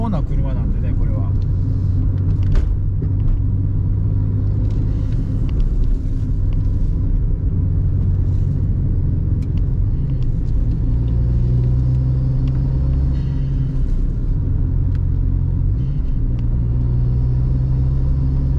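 Suzuki Alto Turbo RS (HA36S) kei car driving on a winding road, with a steady low engine drone and road rumble and gear changes shifting the pitch throughout, loud and close from inside the cabin.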